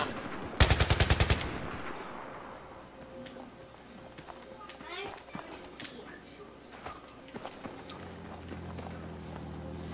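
Automatic gunfire in a Battlefield 3 Conquest match: a loud, rapid burst of about eight shots near the start, then quieter battlefield noise with scattered distant pops and a voice talking over it.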